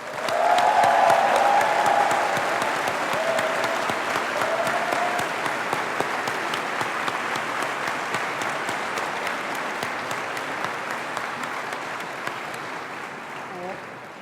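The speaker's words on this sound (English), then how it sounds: "I would like you to give a warm round of applause as I welcome to the stage for our next speech," At a school graduation ceremony, an audience gives warm, sustained applause as a speaker comes to the stage, with a few voices cheering early on before the clapping gradually tapers off.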